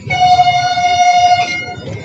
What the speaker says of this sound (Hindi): दोबारा हॉर्न दिया है और चल पड़ी ट्रेन।